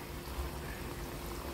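Bread cutlets coated in semolina frying in hot oil, a steady soft bubbling sizzle heard up close and continuously, with no talking over it.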